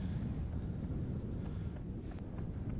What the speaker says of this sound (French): Et vous entendez le vent, hein.